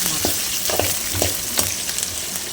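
Onions sautéing in a pan for Tamil-style fish curry, with steady sizzling and frying and repeated scraping stirs of a spatula, heard close and alone with no talk.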